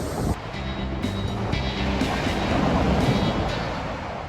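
Waves wash steadily onto the shore of a giant lake beach at Old Woman Bay, a continuous broad roar with wind buffeting the microphone and no voices.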